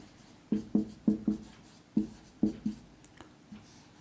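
Pen or marker strokes drawing a K map by hand for a half adder design, a series of short scratchy scrapes in quick bursts, close and fairly clear, with no talking.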